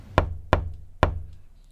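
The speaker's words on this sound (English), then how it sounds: "she inhales deeply, exhales as strongly, and knocks on the door before her" Three sharp knocks on a door, close and solid, the first two quick and the third after a slightly longer gap, each ringing briefly before fading.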